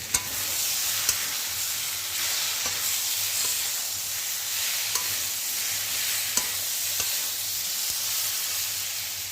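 Cauliflower frying in a pan of spices while being stirred, a steady close sizzle and hiss with scraping stirs at irregular intervals, no talking.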